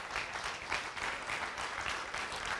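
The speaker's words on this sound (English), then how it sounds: "how about one more round of applause for the Army Sports Hall of Fame class of 2019." A banquet crowd gives a steady round of applause for the Army Sports Hall of Fame class of 2019, dense clapping filling the room at even loudness throughout with no one talking over it.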